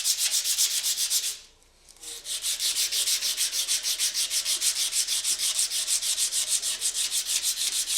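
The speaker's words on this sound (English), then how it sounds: "Just finish off with some emery cloth to make sure it's a really nice clean joint." Emery cloth is rubbed over a corroded metal joint during a car ABS reluctor ring repair, producing rapid, regular back-and-forth scratchy strokes, loud and close, with a brief pause before the rhythm resumes.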